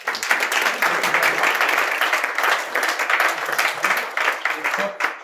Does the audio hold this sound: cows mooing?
no